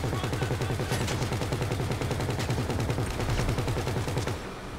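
Rapid automatic gunfire from enemy AI in GTA 5 Online, loud, dense and continuous bursts of shots filling the scene before cutting off near the end.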